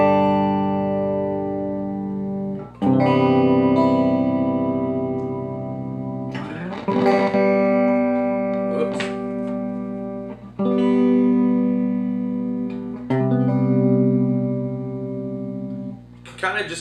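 Guitar chords are strummed through a TC Electronic Corona Mini chorus pedal, several sustained shimmering chords rung out in turn with sharp strum attacks and a wavering, spacious tone.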